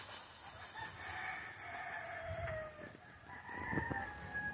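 A rooster crows somewhere in a yard, faint and distant, with one drawn-out call rising over soft background sound.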